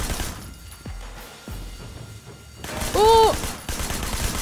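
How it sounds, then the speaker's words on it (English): Bursts of gunfire ring out in the open-world action game Sleeping Dogs, rapid cracking shots in clusters along with a loud crash, while a man briefly exclaims over the shooting. "They're just shooting everyone up."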